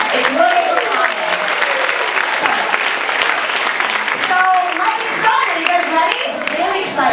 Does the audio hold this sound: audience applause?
yes